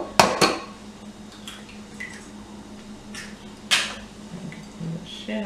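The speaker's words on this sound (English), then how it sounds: "We're going to crack our eggs and we're going to mix our wet ingredients in a separate bowl." Eggs cracked against a bowl for cornbread batter: two sharp taps close together near the start, then another crisp crack a few seconds later, with small clinks of shell and bowl in a quiet kitchen.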